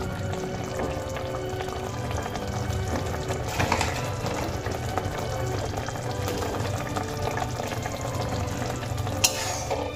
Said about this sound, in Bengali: এবার আমি সমস্ত মশলা একসঙ্গে ভালো করে কষিয়ে নেব।